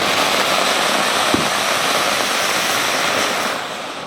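Continuous loud crackling roar of Deepavali fireworks and firecracker bombs bursting, dense and sustained with one sharper thump near the middle, fading slightly toward the end.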